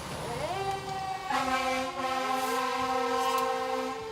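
A fire truck siren wails with rising and sliding tones over the rumble of the truck moving through rush-hour city traffic on a bumpy road, loud and continuous throughout.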